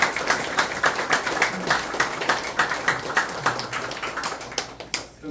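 Audience applause at a 30th-anniversary celebration of a Seoul youth meditation and new-life society, a steady wash of many hands clapping throughout, fairly close and full, with dense overlapping claps that thin out near the end.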